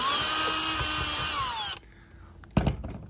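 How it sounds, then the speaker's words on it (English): A power screwdriver whines loudly as it backs screws out of the metal retaining plate on a fridge door seal. The whir runs steadily, stops, and a brief clunk follows. "remove all the screws and take the plate out"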